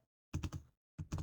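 Two brief flurries of close, crisp keystrokes on a computer keyboard, a word being typed into a spreadsheet cell, with a short silent pause between the bursts and no talking.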